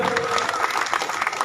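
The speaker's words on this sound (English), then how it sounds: "Let us clap for each and every participant." An outdoor crowd at a cycle rally claps steadily, a dense patter of many hands with a few faint voices mixed in.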